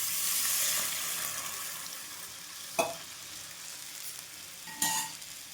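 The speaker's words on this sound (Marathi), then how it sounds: "तर थोडं पाणी टाकून घेते मी" Water splashed into a hot pan for a fasting-day potato dish raises a steady hiss, loudest at first and then settling, with two sharp scrapes of a spoon stirring in the middle and near the end.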